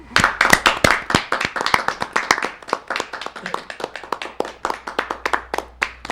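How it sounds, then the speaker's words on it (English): A crowd claps steadily for several seconds, a dense patter of many hands at moderate loudness with no voices. "let's give Bob a round of applause"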